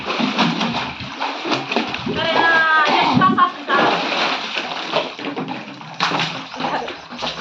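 Water splashes and sloshes into a container under continuous chatter of several people, including a voice.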